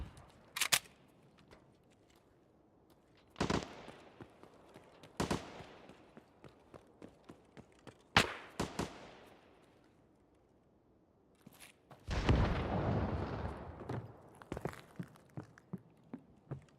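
Gunfire in Escape from Tarkov near the Pinewood hotel: scattered sharp single shots with short echoing tails, then a denser rattling burst, moderately loud against a quiet background, no talking.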